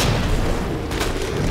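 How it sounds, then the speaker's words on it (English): Grenade explosion in Resident Evil 2, a loud, dense rumbling boom filling the whole moment with a brief sharp burst near the middle. "This is a grenade. I'll throw the grenade"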